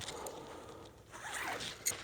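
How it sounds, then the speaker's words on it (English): A tent zipper is pulled open in quick raspy strokes, close and fairly quiet, ending with a brief sharper zip. "Zipper."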